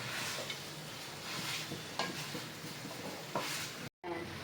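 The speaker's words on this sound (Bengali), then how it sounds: "এইগুলো অনেকটাই ভাজা ভাজা হয়ে গেছে, আর একটু ভেজে নেব।" Chicken pieces fry in a pan and get stirred, making a soft, steady sizzle with faint scrapes. A voice talks over it, and the sound briefly cuts out near the end.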